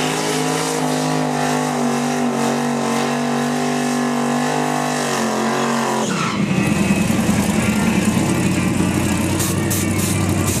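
A 1998 Chevy Camaro at a drag race roars loud and steady, its engine note holding a sustained pitch before shifting into a rougher, broader roar partway through as the run continues.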